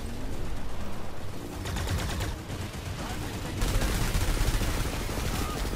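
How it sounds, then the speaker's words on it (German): Dense, rapid gunfire in Planetside 2, with overlapping automatic bursts crackling continuously and growing heavier partway through, with no talk over it. "Wo kam jetzt die Schüsse her"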